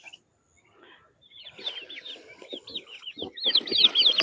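Turkeys cluck and chirp nearby, starting sparse and quiet, then building into dense, overlapping calls with rustling at the end.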